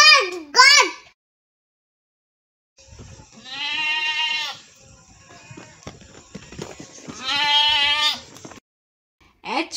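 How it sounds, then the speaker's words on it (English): A goat bleats in long, wavering cries, two separate loud calls close by over a faint farmyard background, with short voice-like sounds at the edges. "G for goat."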